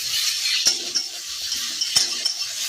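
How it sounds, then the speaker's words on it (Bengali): Thankuni leaf greens stirred in a cooking pan: a utensil scrapes and clinks against the pan in a few close strokes over a soft, steady sizzle, with no talking. "সেই শাকগুলো দিয়ে দিলাম, দিয়ে আবার নাড়াচাড়া করে নেবে।"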